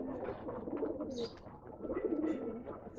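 Racing pigeons cooing nearby at a pigeon sale in Bangalore, soft repeated throaty coos with a faint voice in the background.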